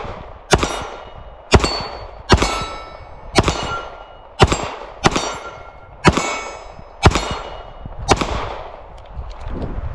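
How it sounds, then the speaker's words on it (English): A S&W Bodyguard 2.0 pistol fires eight evenly spaced shots at a steel target, each loud crack followed by a bright metallic ring that fades before the next. "We're just going to be running a little bit of speed on this steel right here."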